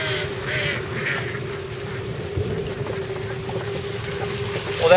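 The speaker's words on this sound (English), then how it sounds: "Little ducks better get out of the way." Little ducks quacking near a water wheel boat on a tank, their calls mixed into a steady watery churn with a constant hum, alongside faint talking.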